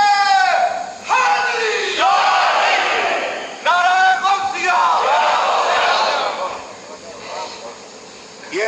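At a Sunni conference, a crowd bellows the slogan nara-e-Tahqiq in loud, massed call-and-response shouts, with several distinct bursts of many voices and a lingering roar that fades toward the end.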